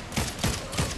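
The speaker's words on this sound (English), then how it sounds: "Yeah, I'm shooting a llama." Gunfire aimed at a llama in an Unreal Engine 5 video game: three evenly spaced, punchy shots about a quarter second apart, loud and close, each with a broadband crack over a low thump, with no talk.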